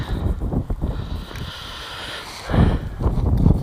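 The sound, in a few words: gusty wind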